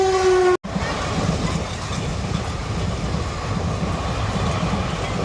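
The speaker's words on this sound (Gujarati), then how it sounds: "લખતર ના રેલગાડીના લીધે સ્ટોપ કર્યો આપણે" A passenger train rolls past a railway crossing at Lakhtar, loud and close, with a continuous rumble and wheel clatter after a brief tone and a short cut near the start.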